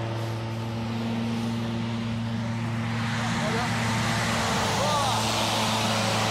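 An A8 project hovercraft sliding sideways along a steep riverbank gives off a loud, constant engine and fan drone with steady low hum tones and broad rushing noise.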